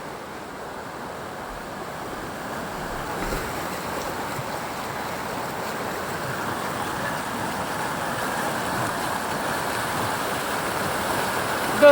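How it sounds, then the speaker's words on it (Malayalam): Water rushes strongly through a stone-built canal beside a dam, a steady, close roar that swells slightly toward the end, with no voices. "ഈ കനാലിലൂടെയാണ് വെള്ളം പോയിക്കൊണ്ടിരിക്കുന്നത്."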